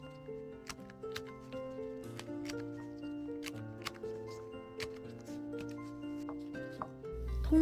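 A knife slices through whole garlic cloves and ginger on a cutting board, a rapid run of crisp, close, sharp ticks and taps keeping a quick, fairly even rhythm with no talk.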